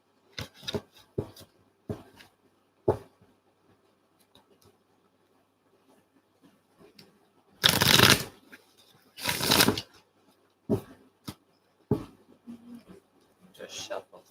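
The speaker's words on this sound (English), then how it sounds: "just shuffle this last one." Tarot cards are shuffled close by in two longer riffling bursts, framed by scattered soft taps and flicks of cards being handled during a live reading.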